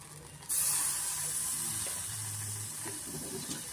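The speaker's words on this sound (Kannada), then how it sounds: "ಇವಾಗ ಇದೇ ಬಾಣಲಿಗೆ ಒಂದು ಸ್ಪೂನ್ ಆಗೋಷ್ಟು ನಾನು ಬೆಣ್ಣೆ ಸೇರಿಸ್ತಾ ಇದ್ದೀನಿ" About a spoonful of butter hits a hot pan while making butter palak paneer gravy, setting off a sudden steady sizzle that stays loud and hissing and slowly eases.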